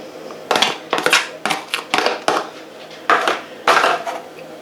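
Diced mozzarella is tipped into a spinach dish, giving a run of sharp clinks and scrapes of a utensil against a dish, about a dozen quick close knocks in uneven clusters.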